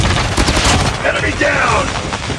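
Rapid, loud automatic fire from a Cordite submachine gun in Call of Duty Mobile, a dense continuous stream of shots heard up close.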